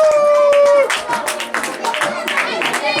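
An audience applauds at a Christmas ceremony in a Christian school, a dense, steady patter of many hands that starts after a sustained tone and continues with a voice over it.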